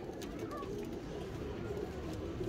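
Pairs of quality-breed pigeons give soft, low cooing against a constant background noise.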